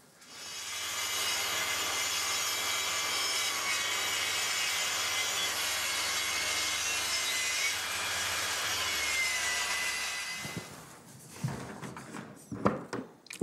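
A saw cuts 3 mm from the front edge of a wooden side panel for a built-in cabinet. The rasping cut holds steady and loud for about ten seconds, then stops, and a few knocks and handling sounds follow.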